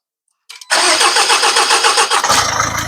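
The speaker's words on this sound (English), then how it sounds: "you can hear the extended crank time, because I think I've got a feeling the timing has actually jumped a tooth on this." A Jaguar Ingenium diesel engine with a worn timing chain cranks for an extended moment, then fires and settles into a loud, steady diesel idle close by.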